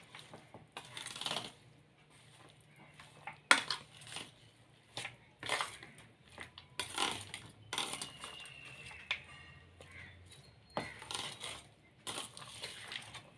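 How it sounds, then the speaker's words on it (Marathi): A spoon works curd around a bowl while mixing Gopalkala, giving quiet, intermittent scrapes and light clinks of metal against the bowl, close by. "छान मिक्स करून घेत आहे मी दही घातल्यानंतर"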